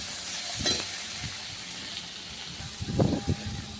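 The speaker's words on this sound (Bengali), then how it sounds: "মশলার সাথে ভেন্ডিটা ভালো করে ভাজা ভাজা হয়ে গেছে" Okra fries softly in a pan with garlic, cumin paste, coriander powder, chilli powder, salt and turmeric. A low sizzle sits under a few scraping stirs and clinks of a spatula.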